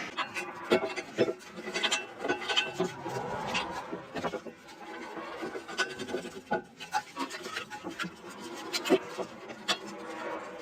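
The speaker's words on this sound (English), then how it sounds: "I put in the top bolt on the caliper now with the washer" Metallic scraping and rasping while the top caliper bolt and its washer go onto a 1988 Alfa Romeo Spider during a brake rotor change, with irregular close-up clicks and scrapes running throughout at moderate level.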